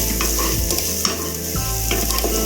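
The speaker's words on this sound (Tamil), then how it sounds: "இப்போ நம்ம வரமிளகாய் 4 எடுத்து வச்சுருக்கோம்ல அதை போட்டுக்கலாம்." Dried red chilies sizzle loudly in hot oil in a pan, a dense continuous crackling fry with a few stirring scrapes, and no one speaking.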